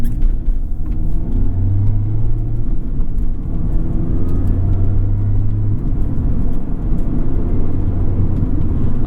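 A 2020 Mazda Miata with a manual transmission drives along, its engine a steady low rumble with road noise, heard from inside the cabin. The engine drone rises and falls in pitch with gear and speed changes, and no one talks.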